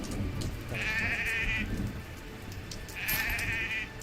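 A sheep bleats twice in the video game The Quinnfall, each a wavering, nasal call about a second long, set over a steady rain-like ambient hiss.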